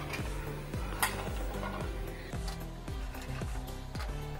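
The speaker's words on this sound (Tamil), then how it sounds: "இப்போ கழுவி வச்சுருந்த சுண்டைக்காயை ஆட் பண்ணிக்கலாம்" Washed turkey berries tossed into frying masala for a traditional pachai sundakkai kuzhambu, stirred with steady rhythmic scraping strokes of a spoon against the pan over a continuous close sizzle, no talking.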